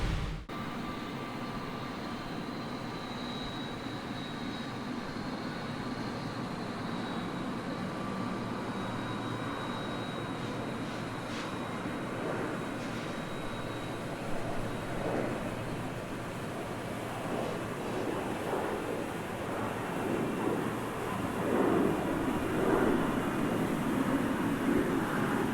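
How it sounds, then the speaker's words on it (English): Engine number 2 of a Boeing 777-200 spools up in the X-Plane 11 flight simulator: a steady, broad jet roar that holds evenly, with faint whining tones and a slight swell toward the end. "And now we'll watch engine number 2 spool up."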